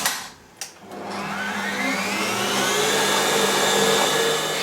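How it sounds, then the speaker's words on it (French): Stand mixer whipping three egg whites for lemon marshmallows, starting after a couple of clicks and rising into a loud, steady whirring motor hum that continues unbroken. "on va mettre nos 3 blancs d'œufs dans le robot"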